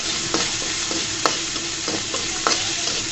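Shrimp frying in a pot with a steady, close sizzle, punctuated by several sharp spatula scrapes and taps against the metal.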